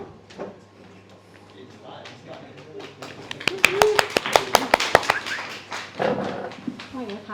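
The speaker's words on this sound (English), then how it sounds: "I get a clap as well." A small audience at a creative community meet-up in Hull claps in a brief burst of sharp, fairly close claps lasting a couple of seconds, with speech before and after.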